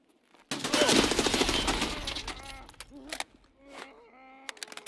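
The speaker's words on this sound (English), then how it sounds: "That's the RFB guy shooting at me." Bursts of RFB rifle fire from an enemy in a shooting video game rattle out in a dense, loud volley for about two seconds, then trail into scattered sharp cracks and electronic game tones.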